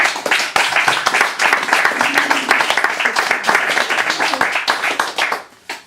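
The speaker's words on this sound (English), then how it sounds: "More applause, please" An audience at a poetry reading applauds a performer's set, with sustained close clapping running nearly six seconds under scattered voices, then tapering off sharply at the end.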